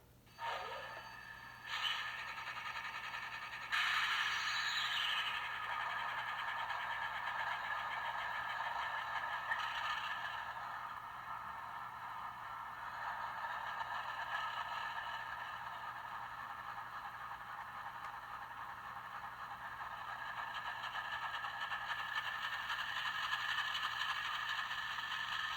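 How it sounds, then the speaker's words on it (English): Startup sequence of an ES44 model locomotive sound decoder on an HO-scale model, a steady droning engine idle with an initial rising whine and a clatter near the start, continuous and fairly loud throughout, no voices. "hold F8 and the locomotive will start up"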